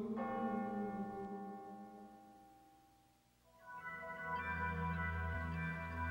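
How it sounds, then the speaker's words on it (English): Church bells ring out in rich, sustained tolls, one peal fading away before a second strong peal swells back in, loud and resonant with no voices. "The bells rang out."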